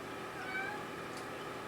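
A small cat gives a single short meow over a soft, steady background hum. It is fairly quiet and no one speaks.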